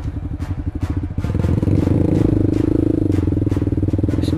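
A sport motorcycle riding into a forest along a rough trail, its engine a loud, steady rumble that picks up and holds after about a second, with clattering and scraping from the bumpy ground.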